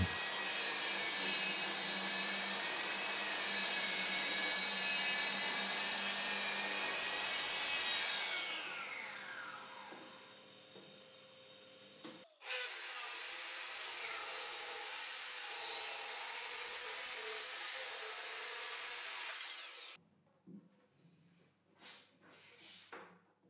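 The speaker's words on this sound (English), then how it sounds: "I'll use a plunge saw to adjust it to the bench's measurements." A plunge saw cuts a pre-cut workbench top. It starts with a loud, sustained whine that winds down, then comes a second steady cutting pass that stops abruptly, followed by faint handling clatter.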